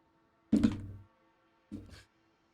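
Two heavy, muffled thuds about a second apart, the first louder than the second, as torpedoes strike a warship in a naval battle game during a competitive grand final match.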